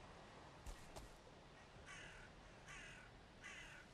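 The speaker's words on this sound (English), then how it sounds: "you hear the crows." Crows in the video game Valheim give three harsh caws at a slow, even pace, faint and somewhat distant over quiet ambient noise, following a couple of soft thuds.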